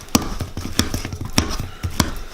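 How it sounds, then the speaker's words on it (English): Very ripe peeled bananas are mashed in a bowl with a pastry blender, giving a steady series of sharp, close knocks and squishes at roughly even intervals, with no talking. "and then proceed to grind them up with a pastry blender."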